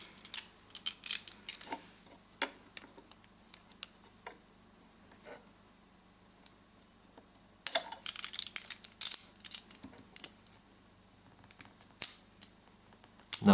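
A knife cuts and picks at tape inside an opened Lenovo IdeaPad S10-2 netbook, making faint, sparse clicks, ticks and scratchy scrapes up close, with a busier cluster of scraping midway through.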